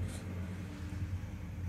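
A motorcycle engine rumbles outside, a steady low drone heard from a distance and indoors, continuous for the whole moment with no voices.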